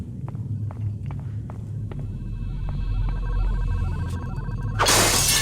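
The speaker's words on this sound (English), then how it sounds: "Break the glass upstairs." Glass shatters loudly near the end of a quiet video game scene, after soft footsteps and a low hum.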